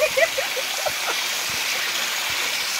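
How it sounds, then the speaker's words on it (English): Cold water stream running over moss makes a constant, close hiss and gurgle. A brief voice sounds at the very start, then the flow continues alone. "I always figured that the water was just running off the moss"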